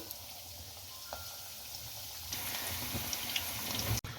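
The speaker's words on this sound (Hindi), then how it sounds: "अब इसके अंदर ये चिकन समोसा डाल दें।" Chicken samosas deep-frying in moderately hot oil in a kadai, giving a steady soft bubbling hiss that grows busier partway through, with a few small pops, close and fairly quiet, no talking.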